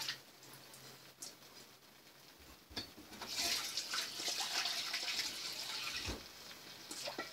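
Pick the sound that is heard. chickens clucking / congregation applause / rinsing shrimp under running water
rinsing shrimp under running water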